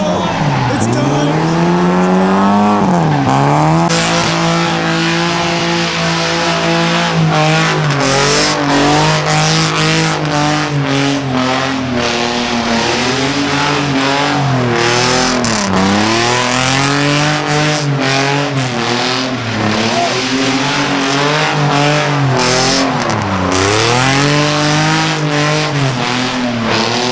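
At an outdoor car meet, a car roars through a long, loud burnout, its engine revving and cycling with squealing tires over a steady high hiss, with people talking and shouting nearby.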